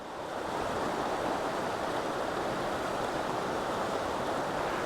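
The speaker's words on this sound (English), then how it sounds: "All this beautiful rapids. Yep. And just listen. Silence. Nothing but water." Turbulent rushing water roars loudly and continuously, a broad steady wash of rapids on Fires Creek, North Carolina, with no voices over it.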